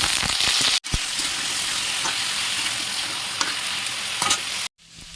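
Potatoes in hot oil in a kadai, alongside panch phoron, give a loud, close, continuous sizzle while being stirred, with a few spatula scrapes and clinks, before cutting off abruptly near the end.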